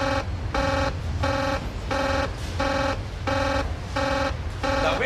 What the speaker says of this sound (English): He's all too used to alarms like this.